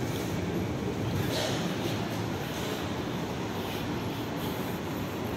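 A Moscow metro train at a station gives off a loud, continuous rumble and rushing roar, broad and fairly close, with faint high squeals at moments and no break throughout.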